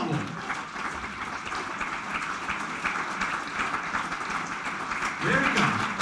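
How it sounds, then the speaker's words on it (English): A large audience at the 2008 Aubrey Allen Chef of the Year awards claps in sustained, dense applause with cheering throughout, while a voice comes through on a public address system at one point. "Chef of the Year, give a very warm hand, a huge cheer to Thomas Wells from Turners of Hartlepool."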